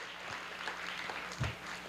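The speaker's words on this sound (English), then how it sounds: "So give him a round of applause" Audience applause at the City of Boston Scholarship Fund award ceremony, a soft, brief patter of clapping from a crowd, fairly faint and distant, with one louder thump partway through.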